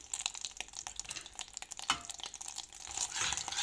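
Butter heating in a pan with dried mint and red pepper flakes for a soup, giving a faint, close, crackly sizzle with scattered small pops and no speech.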